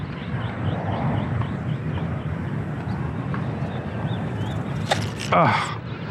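A Kootai Ki84 micro RC warbird plane flying low over grass, giving a continuous buzzing motor drone at a steady level, with a short louder swell near the end.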